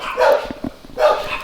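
Pet dogs bark at home in two short, close bursts separated by a brief pause, reacting to another dog being walked nearby.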